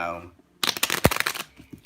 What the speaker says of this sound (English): So I'm going to go ahead and shuffle the Lenormand cards